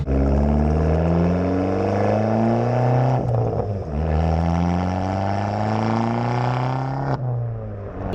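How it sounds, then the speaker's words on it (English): An Abarth car engine with an aftermarket exhaust revs in long steady pulls, dropping and climbing again in three rising sweeps, loud and close with a deep throaty exhaust tone. "it's an exhaust that sounds really good as well"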